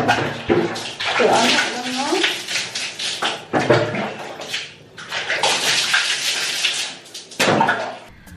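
Water runs steadily for a bath after exercise, a broad rushing splash that rises and dips with short breaks, heard close over someone talking at the same time.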